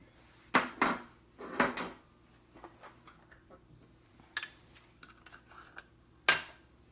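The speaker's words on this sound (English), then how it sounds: "And the last thing we need to add is the cloves, and then we'll stir that and set it off to the side" Cloves stirred into ginger cookie dry ingredients in a bowl, making a few sharp clinks and scrapes of utensil against the bowl in short bursts, with quieter taps between, close and fairly soft.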